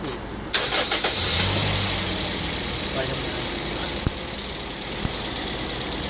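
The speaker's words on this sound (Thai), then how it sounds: "เดี๋ยวเราสตาร์ทเครื่อง" A car engine is cranked and starts, then settles into a steady idle with a constant running hum and a couple of faint clicks.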